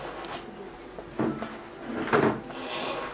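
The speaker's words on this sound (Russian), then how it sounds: "Подойдите, откройте дверь." A door is opened in a painting class studio, with a couple of soft wooden creaks and knocks mid-way, moderately close and unaccompanied by talk.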